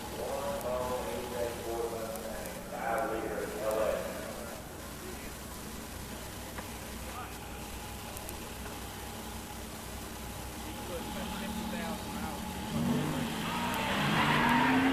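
Drag race launch of an 87 Buick Regal and an 87 Mustang 302 HO 5-speed at a musclecar nationals event, with tire squeal and engine noise rising and falling, a strong surge near the end, and announcer talk underneath.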